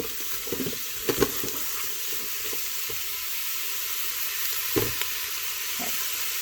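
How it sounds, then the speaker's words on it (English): Spinach and bottle gourd stirred in an Instant Pot, a steady hiss under a few soft scrapes and knocks of the spoon against the pot; no talking. "I'm just going to quickly move everything around, mix it up"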